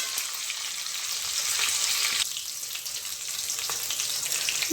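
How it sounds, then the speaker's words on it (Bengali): A fish head frying in hot oil, with a steady, close, dense sizzle and sharp spluttering pops running throughout, no voices. "মাছের মাথাটা ভেজে দিচ্ছি, একটু ফাটছে"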